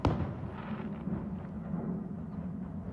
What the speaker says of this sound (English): See, that's an explosion at somebody's house.